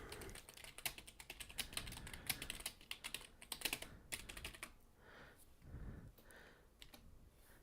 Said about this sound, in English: I am going to type anything else from the chat.